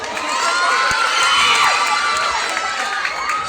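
A large festival crowd of children and adults cheers, shouts and whoops loudly and continuously at a school feast-of-talents event, the roar swelling in the middle and holding steady to the end.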